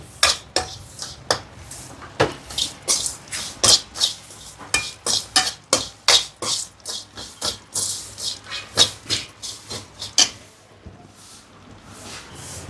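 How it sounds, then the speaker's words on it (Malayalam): A metal spoon stirs Kashmiri chilli, turmeric, chilli powder and coriander powder masala in a pan for a fried fish curry. The strokes give steady, rhythmic scrapes and clanks, close and distinct, a couple of dozen in a row with no talking. "കാശ്മീരി ചില്ലി കുറച്ച് മഞ്ഞൾപ്പൊടി കുറച്ച് മുളക് പൊടി കുറച്ച് മല്ലിപ്പൊടി കുറച്ച ഉള്ളോട്ടാ മറ്റേതും കൂടി ഇട്ടിട്ട് നമുക്ക് ഇതിൽ ഇളക്കണേ"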